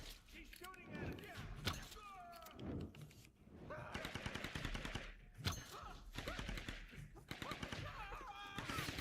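Rapid gunfire from the Tomb Raider Definitive Edition video game, bursts of machine-gun fire and single shots crackling over a steady battle din, with someone talking over much of it.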